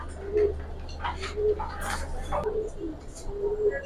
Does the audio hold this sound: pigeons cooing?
yes